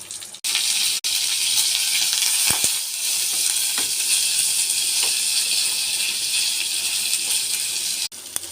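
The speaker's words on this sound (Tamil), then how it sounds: "எண்ணெய் ஊற்றி தாளிச்சுப்போம்." Mustard seeds and urad dal crackle in hot oil for tempering, a loud, continuous hissing sizzle with occasional pops, close and without talking.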